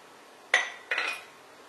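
A metal karahi pan for tempering haleem clanks twice in quick succession, two sharp close knocks with short ringing tails in an otherwise quiet kitchen.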